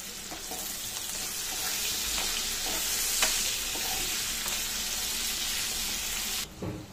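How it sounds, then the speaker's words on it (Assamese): Pumpkin pieces frying in hot oil with turmeric powder and salt crackle in a continuous, close, even sizzle, with a few soft stirring knocks and no talking. "হালধি পাউডাৰ দি ৰঙালাওখিনিও ভাজিম"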